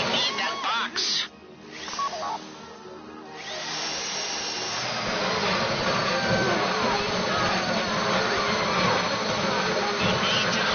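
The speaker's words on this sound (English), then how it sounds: "If the drill burns out, this whole thing will take too long." A heist drill from GTA Online whines steadily for several seconds, a loud, continuous grinding drone that builds after a brief choppy start, with voices talking over it at the beginning.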